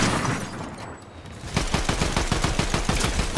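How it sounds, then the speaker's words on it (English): Gunfire in Fortnite: after a muffled stretch, a rapid run of sharp, evenly spaced shots rings out loud and near, continuing without pause. "I'm getting sniped at right now."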